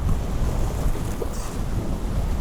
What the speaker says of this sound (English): oh, the wind feels good